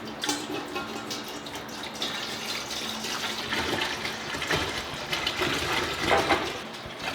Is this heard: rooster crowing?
no